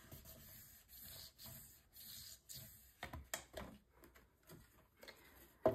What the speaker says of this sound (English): And then press this down with my bone folder. And flip over and burnish from the back side.